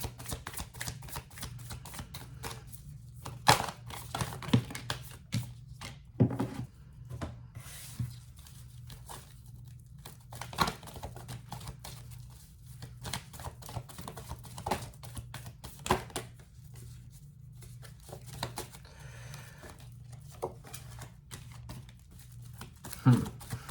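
Oracle cards being shuffled and pulled during a reading, giving a run of close, dry papery riffles, snaps and soft slaps spread unevenly over the whole stretch, with no talk.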